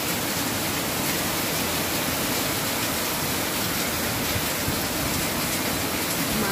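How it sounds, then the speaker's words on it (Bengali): A heavy, wind-driven downpour roars as a dense, unbroken wash of rain, loud and steady throughout with no pauses. "অনেক বাতাস হচ্ছে, মুষলধারে বৃষ্টি হচ্ছে, রাস্তায় জল জমার সম্ভাবনা রয়েছে।"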